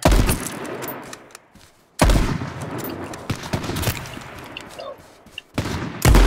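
Gunfire in a zombie shooter video game: loud, rapid bursts of shots in several volleys, with brief lulls between them and sharp single cracks standing out.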